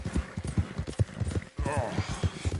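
Horse hooves clip-clop in a steady, even rhythm in Red Dead Redemption 2, close and clear, with a voice talking over the hoofbeats.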